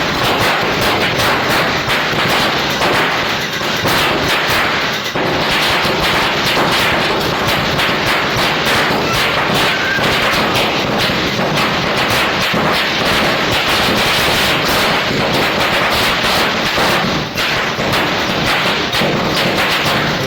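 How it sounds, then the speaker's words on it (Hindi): Firecrackers go off outside a house during Diwali celebrations in a dense, continuous barrage of loud cracking bangs, rapid and overlapping for the whole stretch, with no speech. "इस तरीके से यहाँ घर के बाहर कुछ जो पटाखे छोड़े जा रहे थे।"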